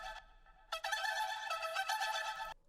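A bright synth pluck chimes in a quick rhythmic pattern, its repeating echoes smearing into a shimmering wash before cutting off abruptly.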